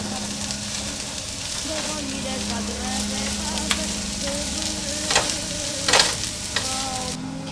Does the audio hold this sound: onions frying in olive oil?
yes